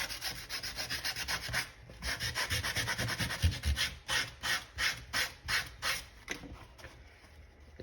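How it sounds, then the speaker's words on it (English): A soft part is scuffed to look worn, with quiet, rapid rubbing strokes followed by slower, distinct back-and-forth abrasive passes in a steady rhythm, close and alone. "if you want to make something look worn, you just give it a good scuff."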